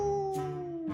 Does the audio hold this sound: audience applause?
no